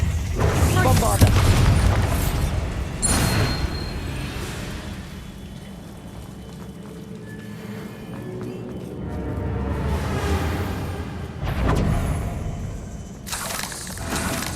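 Bombarda spell explosions in Hogwarts Legacy, deep booming blasts that roll and rumble, a heavy burst at the start and more swelling later, with lingering low debris noise between.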